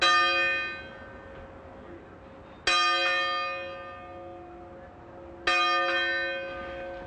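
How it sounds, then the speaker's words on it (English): A lunch bell rings three times at slow, even intervals at Asilomar, California, each clear metallic strike ringing out and fading before the next; no one speaks. "You heard the bell ring, didn't you?"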